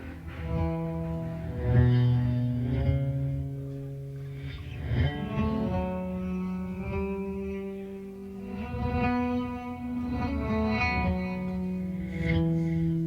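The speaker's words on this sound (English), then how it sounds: "Wet, you'll hear a little delay." A clean electric guitar through a Source Audio Ventris pedal plays slow, sustained notes and chords, each one trailed by soft repeating echoes that blur into the next phrase.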